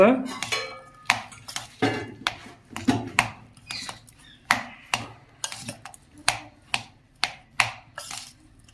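A potato dish being mixed with whole spices, a spoon knocking and scraping against the pot in a steady rhythm of about a dozen sharp clinks, close and clear.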